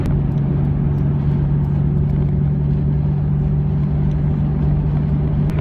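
A 25-year-old right-hand-drive Nissan Skyline GT-R cruising, its engine holding a steady low drone with constant road rumble throughout, loud and close from inside the cabin.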